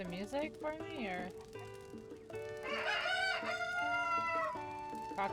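A rooster crows in The Legend of Zelda: Tears of the Kingdom, sounding like a drawn-out cock-a-doodle-doo under game music with a steady tone, while a player talks over it.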